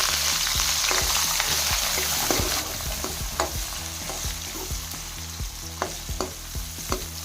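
Chopped onions frying in a pan for bansi rava upma, a steady loud sizzle with repeated scraping and stirring clicks from a spatula, no voices.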